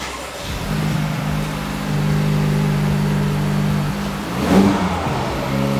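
Honda Civic Type R engine starting and idling, then blipped gently a few times, with one brief stronger rev near the end, heard at moderate volume.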